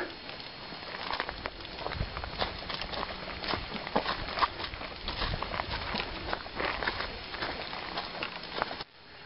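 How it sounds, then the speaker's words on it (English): Rain begins falling on a forested hiking trail in Indiana, a dense, irregular patter of drops hitting leaves and ground at moderate, fairly faint loudness, with no talking. "so looks like we're going to get that rain after all"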